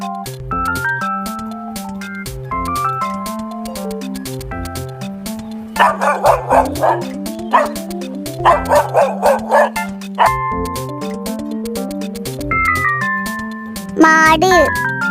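A dog barks in repeated bursts over bright, steady children's music with a simple bass pattern, the yaps loud and close, with a short whimpering yip near the end.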